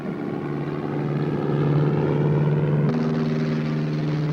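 Steady, loud drone of an observation plane's engine in a 1957 film scene, a continuous propeller hum that holds its pitch and shifts slightly partway through, with no voices.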